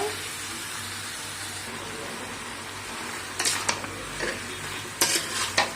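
Chopped banana flower sizzles steadily in a hot pan while a utensil stirs and scrapes against it, with a few sharper clinks toward the end.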